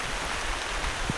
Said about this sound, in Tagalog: tagal pa ng panibagong 1 linggo yung ulan na ganyan